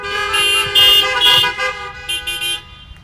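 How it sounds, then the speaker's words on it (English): Car horns honk together at a drive-in church service, several overlapping loud toots and beeps in a steady cluster from nearby vehicles, tapering into a few shorter honks at the end. "See, a few of you were even late to honk your horn."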